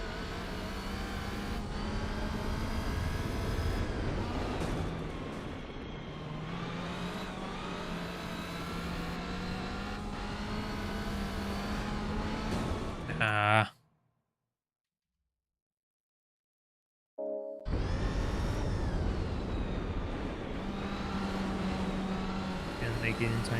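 Race cars in Gran Turismo 4 racing close and overtaking, a continuous droning engine whine that shifts pitch with gear changes, briefly cutting out to silence midway before resuming, with a voice talking over it.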